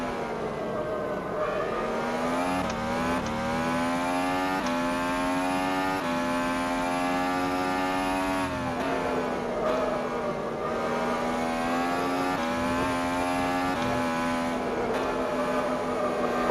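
A Formula 1 car engine in the racing sim rFactor 2 screams at high revs, its harmonic pitch rising and dropping sharply through gear changes and lifts, loud and continuous throughout.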